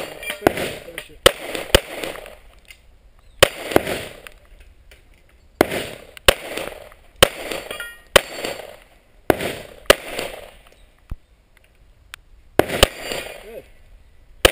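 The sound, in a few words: gunshots at 3-gun combat shooting match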